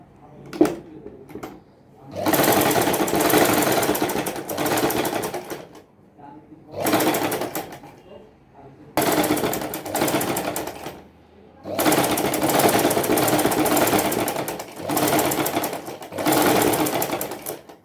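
A sewing machine stitches fabric onto buckram while making a boat-neck blouse neckline. The motor whirs in several long bursts separated by brief pauses, close and loud.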